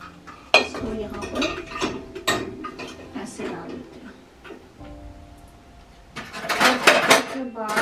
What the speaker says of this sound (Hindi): उसके बाद मैं ये कुकर डालूंगी